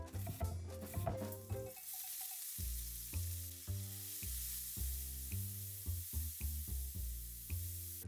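Finely chopped onion fries with pancetta in a pan, a soft continuous sizzle running beneath prominent rhythmic background music for the whole stretch.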